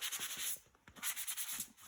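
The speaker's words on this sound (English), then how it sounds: "got a bit of sanding to do now." A Raleigh Chopper bicycle frame is hand-sanded before painting, giving quick, rhythmic scratchy rubbing strokes, close and fairly quiet.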